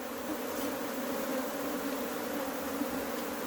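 Africanized honey bees in Trinidad buzz around hive frames of brood, pollen and honey, a steady dense hum that holds evenly without talk.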